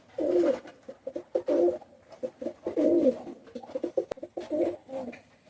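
Teddy pigeons coo repeatedly close by, a series of soft, throaty, rolling coos in irregular bursts with short pauses between them.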